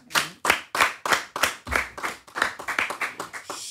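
Enthusiastic clapping from several people, starting in sharp distinct claps that quicken into a busier, overlapping patter, close and fairly loud.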